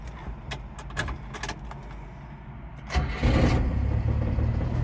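Keys jingle and click in the ignition of a 1992 Subaru Sambar 4x4 truck, then its carbureted engine cranks briefly, catches and settles into a steady, close idle.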